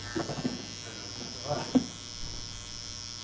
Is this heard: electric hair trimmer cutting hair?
yes